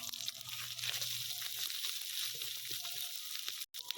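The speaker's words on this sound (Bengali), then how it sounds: "আদা রসুনটা দিয়ে একটু ভালো করে কষিয়ে নেব।" Ginger and garlic paste fries in a pan for a Bengali doi katla dish, giving a steady, close sizzle with light stirring scrapes throughout and a brief break near the end.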